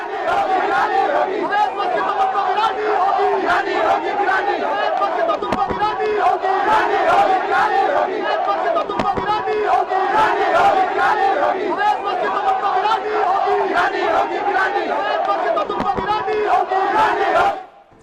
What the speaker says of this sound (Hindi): ये देख रहे हैं मस्जिद के बाहर जो भीड़ आपको नजर आ रही है